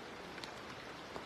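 Rain falling on an elephant outdoors, a soft steady patter with a few brief drop ticks, faint and continuous.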